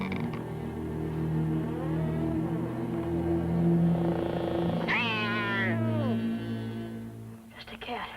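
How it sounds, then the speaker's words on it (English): A cat meows in a rising, wavering cry around the middle of the scene, set against a steady low hum and background music, followed by a shorter cry near the end. "Just a cat."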